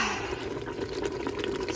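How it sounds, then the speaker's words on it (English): Water pours steadily into a pot of chicken and sausage gumbo, a soft continuous splashing and trickle heard close up and alone, quiet and unbroken throughout the brief moment. "So, now, we're gonna add some water."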